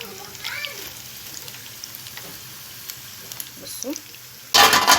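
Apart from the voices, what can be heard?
potatoes frying crisply in oil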